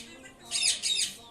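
Green ringneck parrots give two loud, harsh squawks in quick succession, close by, over a quiet background.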